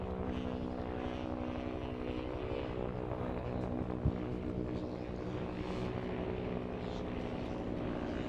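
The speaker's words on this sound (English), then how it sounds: "Helicopter flying low." A helicopter flies low over a coastal park motocross track, its engine and rotor making a steady, droning hum that holds at an even level throughout, with a brief faint knock near the middle.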